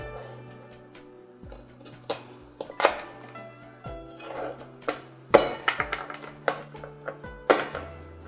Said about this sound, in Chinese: 现在将螃蟹进行改刀，一个蟹分成四瓣就可以了